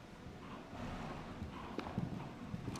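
Horse's hooves during a dressage test in extended canter, soft rhythmic thuds in a steady three-beat pattern over a broad background hum.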